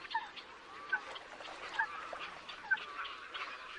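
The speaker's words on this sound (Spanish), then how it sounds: "Son muy numerosos los ánsares que pasan aquí el otoño y el invierno" Greylag geese call at a lagoon, giving faint, distant honks in a loose, repeated series over a quiet outdoor background.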